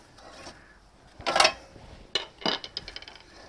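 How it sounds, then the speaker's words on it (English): A Subaru driveshaft axle knocks free of the wheel hub with a short metallic clunk, then a few lighter clanks and scrapes of metal as the suspension is shifted, close by in a quiet garage. "Now we can swing our strut out this way and pop our axle out."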